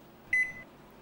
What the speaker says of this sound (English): Defrosting starts with an automatic timer countdown.